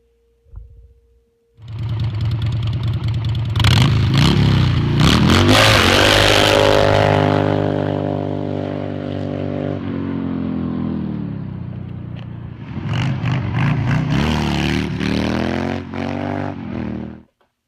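A Harley dirt tracker motorcycle starts up and revs hard while being ridden, its loud engine climbing in pitch, easing off, then surging again in a second acceleration.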